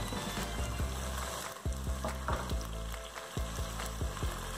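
Onion and garlic paste frying in a pan, a steady close sizzle broken by repeated sharp scraping and clacking as it is stirred.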